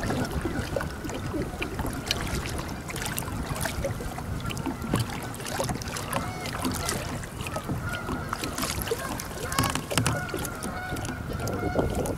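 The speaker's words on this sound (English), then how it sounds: "Bunch of geese over on the other side of the lake." Canada geese honking from the far side of a lake, heard from a kayak on the water; a continuous, fairly distant chorus of calls over steady outdoor ambience, with no talking.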